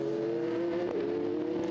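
A 4.2-litre V8 Gibson-engined prototype race car drones steadily at high revs on the 2017 Le Mans 24 Hours circuit, a loud, sustained engine note with little variation, close by and alone.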